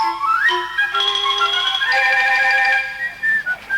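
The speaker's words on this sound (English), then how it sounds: "Don't stand there whistling." A melodic whistled tune with sliding pitches, clear and close, carrying for a few seconds before breaking off.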